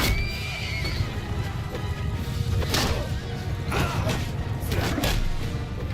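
A horse neighs loudly in a Mount & Blade battle in Calradia, the whinny rising over clattering hooves, thuds and clashing combat noise that continue throughout.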